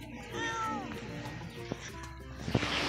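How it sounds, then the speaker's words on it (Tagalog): A house cat gives a few short, rising meows close by, under people talking and some household clatter. "Ang cute naman ng pusa."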